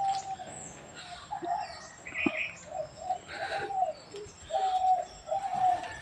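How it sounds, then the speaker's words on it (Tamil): Parrot calls from a home bird kept in a house, several short bright squawks and chirps spread over a few seconds, fairly close and clear, with faint household background and no talking. "வாங்க, இன்னைக்கு கிளிக்கு தண்ணி வைப்போம்."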